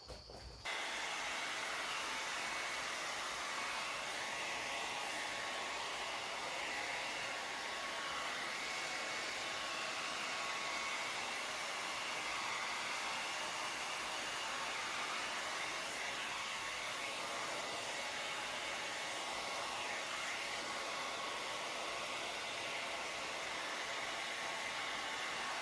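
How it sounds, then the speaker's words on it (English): A hair dryer flash-drying lacquer on a napkin holder kit, blowing as a steady, loud, continuous whir and rush of air that holds for the whole stretch with no talking. "A hair dryer to flash dry the lacquer."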